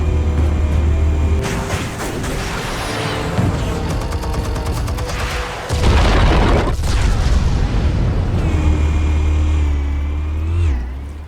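Explosions in Batman: The Telltale Series go off as loud, heavy booms with rumbling low end and crackling debris, several blasts in succession over a sustained roar, close and alone.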